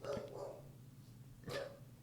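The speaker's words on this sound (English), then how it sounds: "Our dog sees a squirrel in the backyard. That's pretty loud." A pet dog barks at a squirrel in a backyard, two sharp loud barks with a gap between them, heard indoors over a low background hum.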